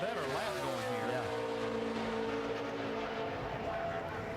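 A NASCAR Nationwide Series race car on a qualifying lap at Charlotte, its engine a steady, high-revving drone with rising and falling pitch, heard continuously and moderately loud under broadcast ambience.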